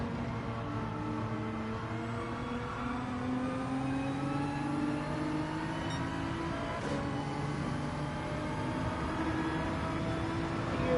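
Race car engines in Gran Turismo 7 during an online qualifying race with Nissan and BMW cars, a steady layered drone of several engines rising and falling in pitch as they accelerate, with no talking.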